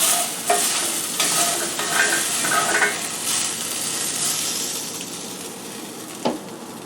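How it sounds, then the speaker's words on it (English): Cod sautéing in garlic oil in a pan: a steady bright sizzle with soft scraping and stirring, a few louder crackles and a clink near the end, with no talk. "I'm kind of like taking some of the oil in the pan and trying to put it on top of the fish"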